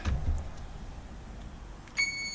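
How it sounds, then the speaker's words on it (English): A single electronic beep from a Seahorse REVO4 unit sounds near the end, a sharp high tone after a couple of soft knocks and quiet background. "Flashing lights, beeping, all a very good sign."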